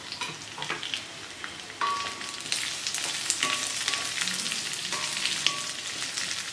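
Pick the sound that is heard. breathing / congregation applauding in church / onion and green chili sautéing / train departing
onion and green chili sautéing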